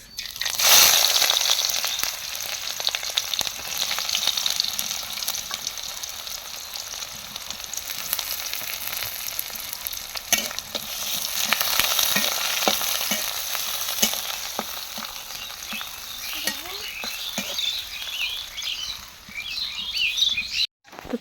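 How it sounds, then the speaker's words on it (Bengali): Loud, close sizzling of onions frying in hot oil, with crackling bursts and the scrape of stirring; no voices. "পেঁয়াজটা ভাজা হয়ে গেছে"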